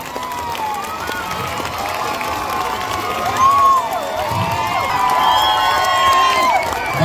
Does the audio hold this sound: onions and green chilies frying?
no